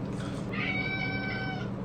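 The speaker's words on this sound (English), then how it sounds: "That's my cat" A pet cat meows once, drawn-out and fairly close, in a quiet indoor room with no talking.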